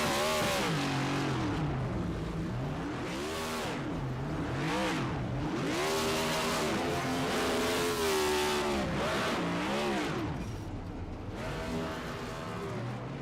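Race car engines at the Long Beach street circuit in a racing game roar and rev in repeated rising and falling surges as cars drift in circles and do burnouts, loud and continuous.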